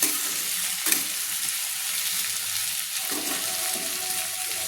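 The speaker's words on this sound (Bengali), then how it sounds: "একটু লাল লাল করে পেঁয়াজগুলো ভেজে নিচ্ছি আলুর সঙ্গে।" Onions frying with potatoes in a pan for a mourola fish curry, a steady close hiss of oil with a couple of faint utensil touches; no speech.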